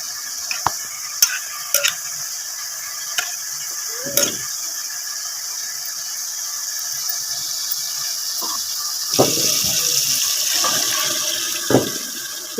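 Chicken nihari stirred in a cooking pot, soft scraping and sloshing of the thick gravy with a few sharp clicks of the spoon against the pot over a quiet, steady hiss.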